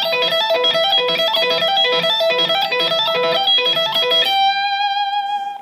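Electric guitar with effects plays a fast five-note grouping line using hybrid picking, downstrokes and hammer-ons, repeating in an even rhythm before ending on a sustained ringing chord, close and clear with no talking.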